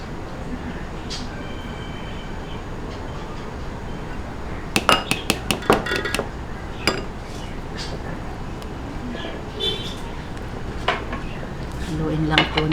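A spoon stirs buko pandan champorado, a chocolate rice porridge flavored with buko pandan condensed milk, in a pot, giving a steady soft scraping with a brief run of sharp metallic clinks.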